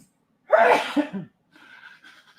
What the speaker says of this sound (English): Sneezing coming.